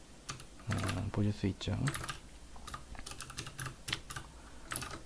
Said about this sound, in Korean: 컨트롤 C를 두 번 눌러서 커밋을 했습니다